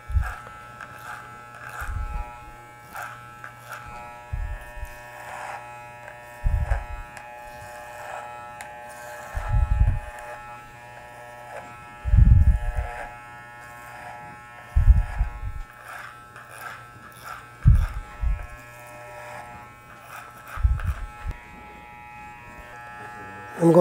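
An electric hair clipper buzzes steadily in a steady low hum, cutting hair over a comb, with brief louder bursts as it bites into hair, heard under intermittent talk.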